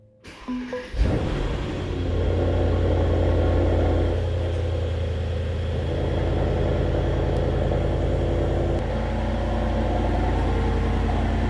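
A Mercedes-AMG SL63 V8 engine cold-starts after a brief crank, then settles into a loud, steady, deep idle rumble that continues without pause.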